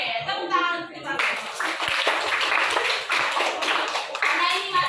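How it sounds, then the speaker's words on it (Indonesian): Schoolchildren in a classroom clap together in a burst of brisk applause that lasts several seconds, with a children's voice and chatter mixed in at the start. "Oke, tepuk tangan untuk kita."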